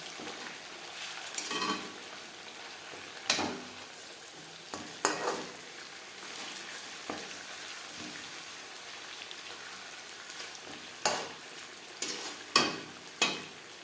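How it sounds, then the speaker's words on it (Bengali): Large pieces of chicken chaap sizzle in a pan at a low, steady crackle, with sharper bursts of spitting oil now and then as the pieces are stirred or turned. "একটা সাইড ভাজা হয়ে গেলে অপর সাইডটা উল্টে দেব।"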